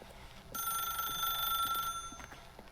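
Telephone ringing in The Stanley Parable, a single bright electronic ring lasting over a second with a steady tone, then fading into a quiet room with faint background clicks.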